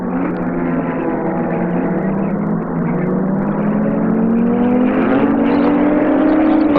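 Cosworth touring cars in the 1989 Production Car Championship race at Mallala. A loud, close engine drone holds steady and slowly climbs in pitch as the cars pass.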